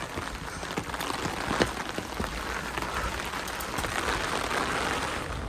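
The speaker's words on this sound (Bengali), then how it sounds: "ঝমঝমিয়ে বৃষ্টি হচ্ছে, আর কারেন্টও নেই এখানে" Heavy rain pours down outside a hillside homestay during a power cut, a dense, steady hiss of drops drumming on surfaces, close and loud, with no voices.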